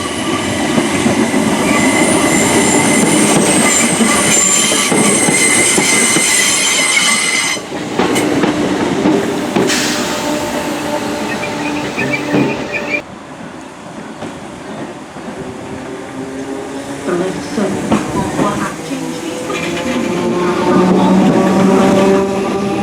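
Merseyrail electric trains passing through Capehurst station, loud and close, with a sustained rolling roar, tonal motor whine, squealing wheels and clattering over the rails, rising and fading as the trains go by.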